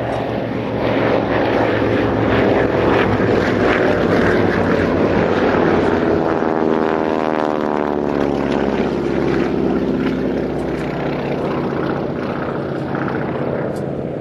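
A Mark 19 Avro Anson, a twin-engine piston aircraft at the Old Warden airshow, drones loudly and steadily for a long stretch, its propeller tone sweeping in pitch as it passes close by.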